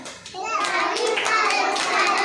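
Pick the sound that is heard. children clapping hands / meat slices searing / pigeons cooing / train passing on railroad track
children clapping hands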